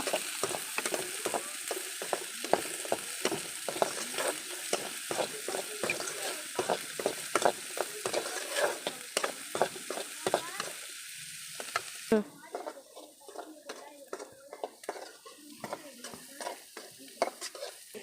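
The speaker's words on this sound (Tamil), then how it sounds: "எண்ணெய் காஞ்சிட்டு கேரட் சேர்த்துக்கலாம் பீன்ஸ் சேர்த்துக்கலாம் குடமிளகாய் சேர்த்துக்கலாம் நல்லா செஞ்சு விட்டு" Carrots, beans and capsicum fry in hot oil for egg vegetable noodles, with a steady sizzle under repeated scraping stirs of a spatula against the pan; the stirring turns quieter and sparser near the end.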